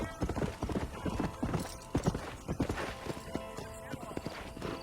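Horse hooves clip-clopping in the video game Red Dead Redemption, a steady close trot of sharp hoof strikes with a faint neigh and voices murmuring underneath.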